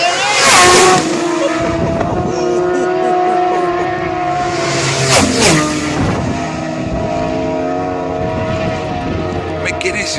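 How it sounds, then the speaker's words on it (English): Honda superbikes at the 2015 Isle of Man TT scream past one after another, loud high-revving engines rising and falling as they approach and recede, with spectators talking quietly between passes. "Them Hondas are sounding lovely."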